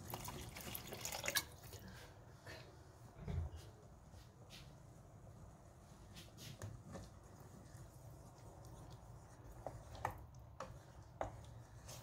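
A pot of vegetable soup simmering, giving off soft, irregular bubbling pops and drips over a low steady background, heard close and faint.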